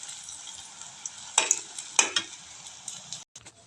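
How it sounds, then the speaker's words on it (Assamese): Raw banana balls frying in oil, a soft sizzle under a few sharp scraping stirs of a spatula in the pan, quiet and close with no talk. "এই আমাৰ বলখিনি ফ্ৰাই কৰি হৈ গ'ল"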